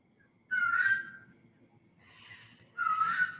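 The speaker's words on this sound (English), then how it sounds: "Bird! Seriously, you're getting louder." A bird calls loudly indoors in two separate bursts of bright whistling cries with a short pause between them, each burst strong and close.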